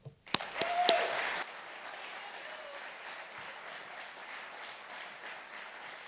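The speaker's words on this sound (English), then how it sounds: "Ladies and gentlemen, a round of applause for the 2024 Proceedings Author of the Year," Sustained applause from the audience at the U.S. Naval Institute annual meeting in Annapolis for an award recipient, a loud sharp opening swell that settles into a steady, distant wash of clapping throughout.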